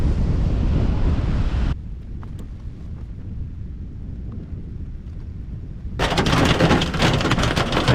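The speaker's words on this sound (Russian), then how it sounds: "у меня тут торнадо, град." A violent storm with tornado-force wind and hail pounds a motorhome, dense roaring rain and hail loud at first, easing to a rumbling wind with scattered impacts, then surging again into a heavy, close, hissing downpour.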